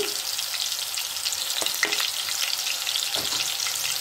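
Garlic and ginger paste frying in a pan after onion paste, a continuous close sizzle with a few sharp spatula clicks and scrapes.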